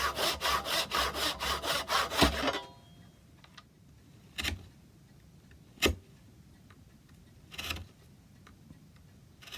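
A hand saw cuts wood on a leg piece from a large cuckoo clock, about a dozen quick, loud rhythmic strokes up close, then stops and is followed by a few isolated knocks and taps.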